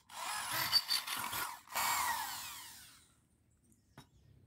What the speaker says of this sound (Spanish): ahorita voy a hacer hueco para meterle el perno ya